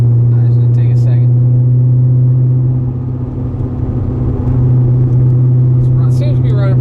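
A Corvette Z06 warming up idles with a loud, steady low engine drone and a constant hum, heard close from inside the car, while people talk faintly over it.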